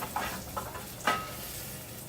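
A fresh batch of pizza sandwiches fries in oil, giving a soft, close sizzle with a few faint pops and crackles.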